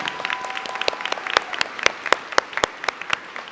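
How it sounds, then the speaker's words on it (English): A crowd applauds graduates at a commencement ceremony, dense continuous clapping with sharper individual claps standing out and faint voices beneath. "Let's give them a cheer,"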